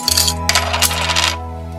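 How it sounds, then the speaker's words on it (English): A Canadian coin drops through a mechanical coin mechanism, a loud metallic clatter and ringing rattle that decays into a sustained hum, close and alone. "this magnet is going to stop ferrous metal coins, washers, Canadian coins, such as that Canadian coin right there."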